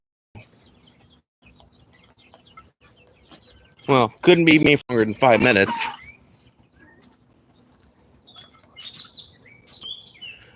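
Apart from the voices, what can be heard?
young Bantam rooster crowing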